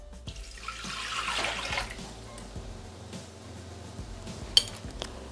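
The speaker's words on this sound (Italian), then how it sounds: "Iniziamo la ricetta mettendo all'interno del boccale l'acqua" Water poured into a Thermomix bowl in a kitchen while preparing soft focaccia dough, a steady splashing pour with light clinks of utensils and dishes close by.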